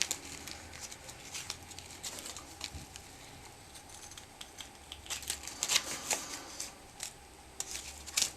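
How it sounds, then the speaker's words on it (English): Scissors snipping around the edges of a handmade artist trading card with raised bits on it, giving a string of soft, close crisp cuts with small paper rustles in a quiet room. "So now I'll just go around and cut the edges off."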